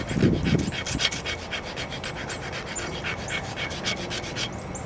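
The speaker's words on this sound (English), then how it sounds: "tooth and grind it just a little on the sides" A shark tooth being ground and beveled on its sides, giving a close series of short rhythmic rasping strokes over a rough, moderately loud background.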